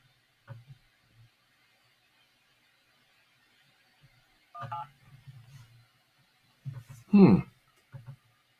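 Telephone DTMF dialing tones sent through a Sears 23-channel tube-type CB radio, a few short beeps scattered between quiet stretches, with a voice briefly heard near the end.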